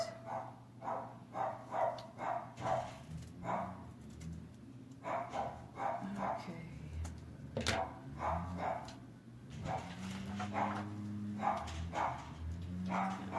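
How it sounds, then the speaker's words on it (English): Several dogs bark excitedly in another room of a house, in repeated bursts of yips and barks with short pauses, heard somewhat muffled and at moderate distance, with a few whimpers between the barks. "Sorry if you guys can hear my dogs going crazy in the other room."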